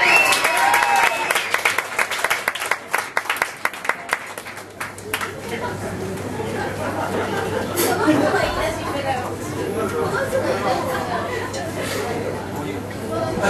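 A concert audience at a winter live show applauds a guest performer, with loud, dense clapping at first that thins out midway into a murmur of crowd chatter and voices.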